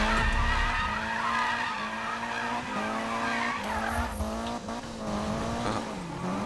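Sustained tire squeal from a Lancer Evo IX drifting in Need for Speed, a loud wavering screech over a roaring engine that shifts pitch as the car slides through the course.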